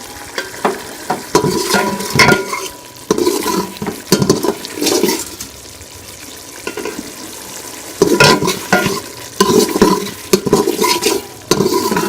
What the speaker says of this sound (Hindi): टमाटर वगैरह डाल के तो मैं 2-3 मिनट अच्छी तरह से भून लूँगी